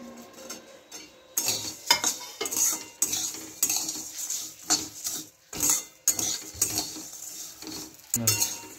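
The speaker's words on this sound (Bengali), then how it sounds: "সিমইটাকে লাল লাল করে ভেজে নেবো। কিশমিশগুলো দিয়ে দিচ্ছি।" Vermicelli and raisins are frying in a pan, with a metal spoon scraping and clinking against it in repeated stirring strokes over a faint sizzle, close and fairly quiet.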